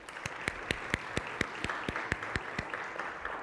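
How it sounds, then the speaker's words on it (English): Audience at a women's health forum applauds sponsors and partners, a modest scattering of distinct claps with a few louder hand strikes standing out from the steady patter. "let's give all of our sponsors and partners a round of applause"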